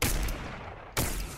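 Gunfire in the video game Fortnite during a multi-squad fight: a loud single shot at the start, a sustained noisy tail, then a second sharp shot about a second later, with no talking.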